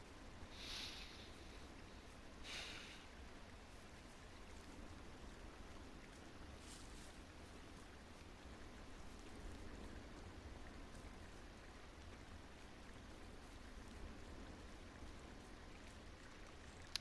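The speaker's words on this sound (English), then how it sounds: "Just listen to that babbling brook." A babbling brook flows steadily in the video game Firewatch, a faint, continuous wash of running water with a few brief splashy bursts and no talking.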